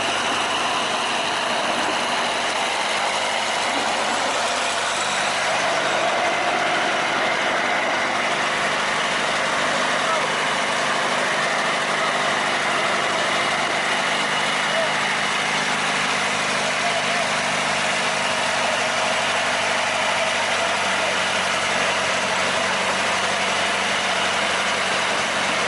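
A sugarcane plantation locomotive runs steadily on a grass-covered field track at the PG Kedawung sugar mill, a continuous low engine drone with broadband rumble that stays fairly level for the whole stretch, with no clear speech.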